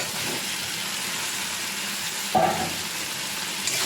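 Vegetables added to a pan and fried for a green mango and katla fish curry give a steady hiss and sizzle, broken by a brief louder clatter of stirring midway; no one speaks.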